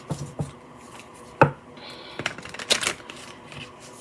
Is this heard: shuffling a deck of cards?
yes